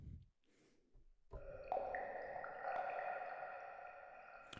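Xpand 2's Water Drops Falling synth preset plinks out bright, droplet-like tones that ring on with echoing delay trails, layered and shimmering after a few soft opening blips.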